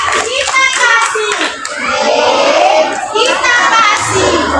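A school class applauding a pupil, quick bursts of many small hands clapping mixed with children's voices and a teacher talking over them, fairly close and loud throughout.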